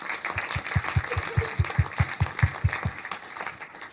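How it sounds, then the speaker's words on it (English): At a university gathering, an audience claps in a quick, regular rhythm of about a dozen strong beats that then loosens and fades into scattered, softer clapping. "big round of applause"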